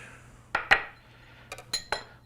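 Cut-up biscuit pieces dropped into a dish, making five light clinks and taps in an uneven rhythm, close and fairly quiet, with no talking.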